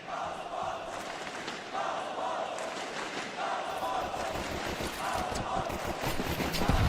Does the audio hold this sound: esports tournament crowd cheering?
yes